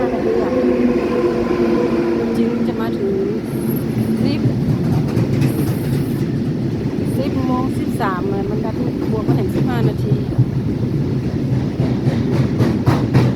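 A train rumbles steadily along the rails with rhythmic clatter at a railway station, while people talk over the noise throughout.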